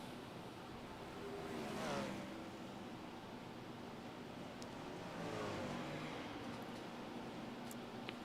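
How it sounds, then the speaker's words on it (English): A 410 wingless sprint car engine roars on the dirt oval at Eldora, a steady loud drone that swells around two seconds and again near five as the cars pass close. "Got to hear that big 410 roaring right in behind him"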